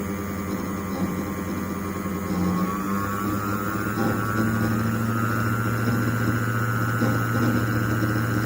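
A homemade DC motor invention spins at high rpm, a loud steady whine with a rising pitch partway through, sustained over a constant mechanical hum.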